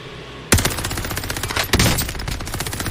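Rapid automatic AS-44 rifle fire in the Warzone Pacific video game: a loud, close burst that starts abruptly after a short quiet lead-in and rattles on continuously, with a sharper spike partway through.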